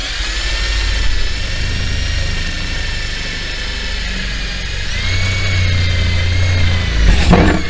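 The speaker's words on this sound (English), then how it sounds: "drill a hole in each corner that's big enough for the saber saw blade to pass through" A power drill bores holes through the metal roof of a 6x10 cargo trailer, a loud steady whining motor hum that dips mid-way and ends in a rattling burst as the bit breaks through.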